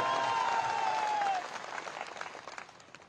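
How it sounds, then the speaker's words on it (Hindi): A crowd at an outdoor public political meeting in Gohad, Madhya Pradesh claps loudly; a thin sliding whistle-like tone rides over the start before the dense clapping drops and thins into scattered claps fading out. "ताली बजा दीजिए"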